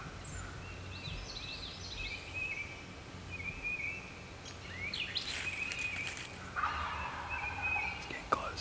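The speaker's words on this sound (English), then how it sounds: "Double gobbler." A wild turkey gobbles at a distance, faint at first and then louder in rattling bursts toward the end, over a steady outdoor hiss with insects humming.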